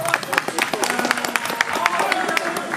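Wedding guests applaud in a continuous burst of clapping, loud and close, with voices mixed into the crowd noise throughout.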